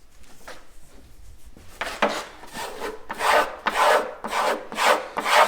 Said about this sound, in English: And so now I go to a strop.